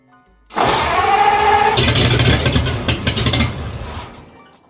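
A 1967 Volvo Amazon 122S, left abandoned for 35 years, cranks briefly then catches and fires into a rough running idle, close and loud, no talk.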